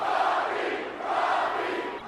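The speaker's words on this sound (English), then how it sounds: "And listen to this crowd, this capacity crowd, packed to the rafters, chanting The Rock's name." A packed arena crowd at SummerSlam in the WWE 2K game chanting The Rock's name in Los Angeles, a loud, rhythmic mass of voices rising and falling in two swells.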